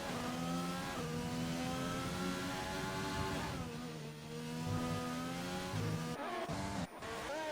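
A race car engine from a sim racing game at Canada's circuit screams at high revs with steady rising and falling gear changes and brief downshift blips, loud and close throughout.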